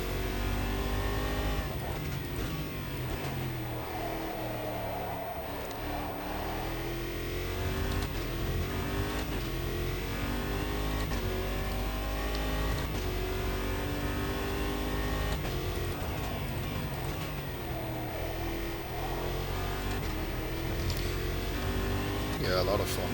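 A race car engine in Automobilista 2 at Donington hums and revs continuously, pitch sweeping up and down through gear changes, with someone talking over it throughout.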